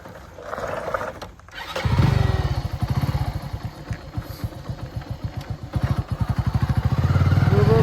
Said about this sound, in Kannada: ಬರ್ರಿ ನಾವು ಬೈಕ್ ತಗೊಂಡು ಹೋಗೋಣ